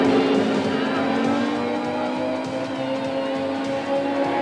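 Onboard roar of Terry Moss's Audi race car at Killarney in the 1993 Wesbank Modifieds, tucked in behind Ben Morgenrood's Mazda; a loud, steady engine drone with sustained harmonics fills the whole stretch.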